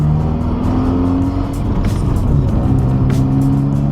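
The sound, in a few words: Hyundai Veloster Turbo engine revving during gear shift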